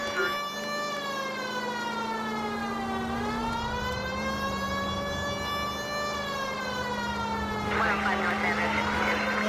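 A police siren in the video game L.A. Noire wails continuously up close, its loud pitch sliding slowly up and down in long sweeps for the whole stretch.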